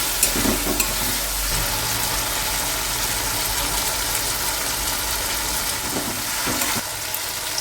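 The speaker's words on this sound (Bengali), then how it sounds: "এবারে দেখো মশলাগুলো ভাজা হয়ে গেছে।" A spice paste fries in a pan for a South Indian chicken biryani, making a dense, continuous sizzle with a low rumbling hum beneath and occasional soft stirring knocks.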